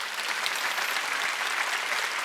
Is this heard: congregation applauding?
yes